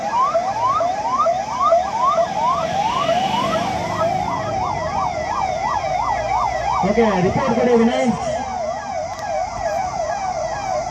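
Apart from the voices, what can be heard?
ambulance siren during emergency drill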